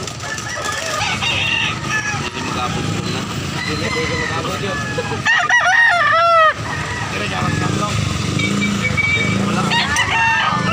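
Bantam chickens in a busy market setting cluck and crow close by, with one clear crow rising in the middle over a noisy backdrop of chatter and passing traffic; people talk throughout.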